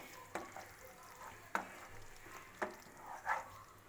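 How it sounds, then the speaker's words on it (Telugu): Drumstick pieces are mixed into a thick pickle paste, giving a quiet, soft background with four separate scraping knocks spread across the clip. "ఒక 1 మినిట్ చక్కగా మొత్తం కలిపేసేసి మునక్కాడ ముక్కలుకి గుజ్జు పట్టేటట్టు మిక్స్ చేసుకోవాలండి"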